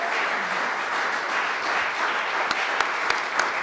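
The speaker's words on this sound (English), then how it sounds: "So please give a warm sound of applause for Mr. Waddell" An audience at a talk on African-American musicians applauds, a steady full wash of clapping with a few sharper individual claps standing out near the end.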